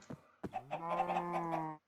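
A Minecraft chicken falls in a One Block Sky Block world. A couple of quick soft clicks lead into one nasal, honk-like squawk that holds for about a second, close and clear against silence.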